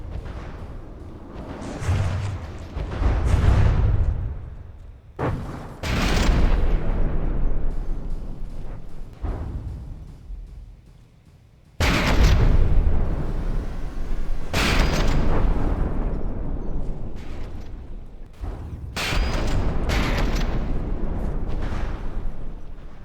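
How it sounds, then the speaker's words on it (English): Missiles exploding during a naval battle in a fleet tournament video game: a dense run of loud, rumbling blasts and booms, with a brief lull before a second heavy barrage. "Missiles doing their part."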